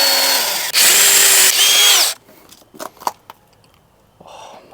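A power drill bores a hole into a wall for a wall plug, running loud and close in two bursts of whine before stopping, followed by a few faint clicks and handling knocks.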